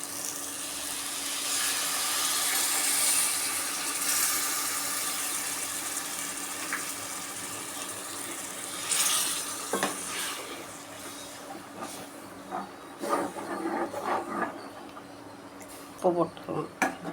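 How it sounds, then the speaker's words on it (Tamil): Tamarind water pours into a pan of prawn curry with a loud, broad rushing splash that fades to softer trickles, followed by scattered clinks and splashes. "இப்போ நம்ம புளி கரைச்ச தண்ணி அதில் ஊற்றிக்கலாம்."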